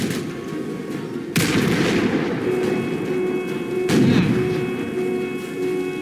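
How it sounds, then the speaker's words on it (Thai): Two heavy cannon booms from the Roblox game General Quarters, several seconds apart, each with a sharp attack and a long rumbling tail over a constant dense background roar. "ใช้ปืนใหญ่ดีไหมเนี่ย"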